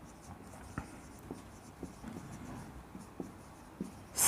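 Chalk or marker strokes on a board during a metric space maths lesson: faint, sparse taps and short scratches spread across a quiet room, with no talking.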